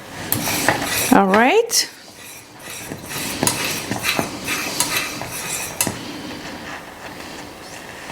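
A whisk scrapes and clinks against a pot while a thickening pudding mixture for sugar cookie macarons is stirred, steady metallic scraping with sharper clinks; a voice speaks briefly near the start.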